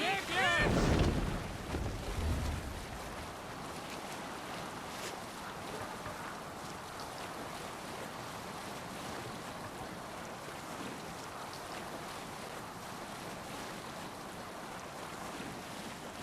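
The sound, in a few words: Viking longship sailing at sea in Assassin's Creed Valhalla video game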